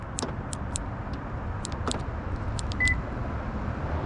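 A 2024 Honda HR-V LX locks with its keyless remote: a scattered series of crisp, sharp clicks close by, then one brief faint beep, with no voices.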